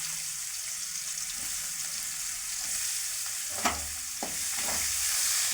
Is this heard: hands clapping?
no